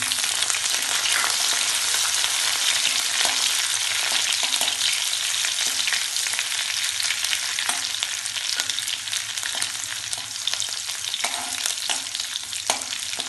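Crushed garlic frying with curry leaves in hot oil, a dense, loud, continuous sizzle with occasional spatters and stirring scrapes, close up and without any talking.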